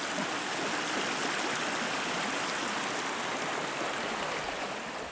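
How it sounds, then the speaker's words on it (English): Steady rushing stream of water at a forest creek crossing in the Allegheny National Forest, a continuous broadband wash that holds even in loudness throughout with no voices. "Let's see how Jimbo does across this here water."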